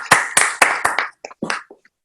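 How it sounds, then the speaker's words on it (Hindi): A small audience welcomes a poet at a comedy poetry event with a brief burst of claps, about eight sharp, close hand claps in quick succession that quickly thin out and stop. "आप सभी के चहेते जोरदार तालियों से स्वागत करें श्री फतेह अली चतुर जी का।"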